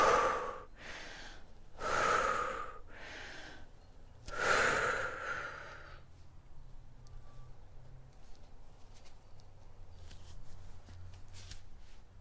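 Forceful breaths out during a Nauli yoga exercise: five sharp, close exhalations in quick succession over the first six seconds, then quiet, with faint rustling.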